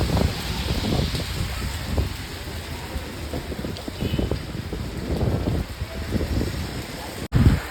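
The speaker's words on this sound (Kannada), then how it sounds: "ಸಿಕ್ಕಾಪಟ್ಟೆ ಮಳೆ ಬರ್ತಿದೆ" Heavy rain pours steadily on a morning in Kanyakumari, Tamil Nadu, a loud dense hiss with rumbling gusts and splashing that runs unbroken for several seconds.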